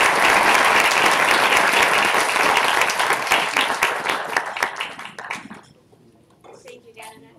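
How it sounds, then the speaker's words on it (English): An audience claps for the panelists at the close of a panel discussion on China and the global order, the sustained applause thinning out and fading away over several seconds. "please give our panelists a round of applause."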